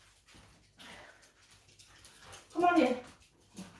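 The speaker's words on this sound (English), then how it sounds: "I'm going to let the dogs in" Dogs being let into a house kitchen give a brief burst of whimpering and yipping, close and fairly loud, while a person talks over low room noise.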